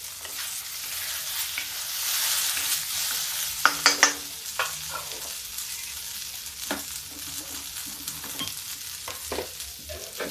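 Potatoes and large-cut okra fry in a pan with a steady, close sizzling hiss, broken by several sharp clinks and scrapes of a stirring utensil; no one speaks.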